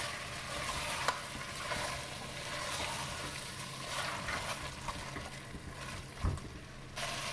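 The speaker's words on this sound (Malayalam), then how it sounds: "ഒരു 1-2 മിനിറ്റ് ഹൈ ഫ്ലെയിമിൽ പിന്നെ ഇതിന് ഇളക്കി കൊടുക്കും" A spoon stirs mutton masala with roasted coconut over a high flame, giving a steady scraping and sizzling with occasional knocks against the pan, close and fairly quiet, with no voices.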